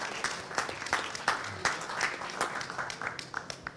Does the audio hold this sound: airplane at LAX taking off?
no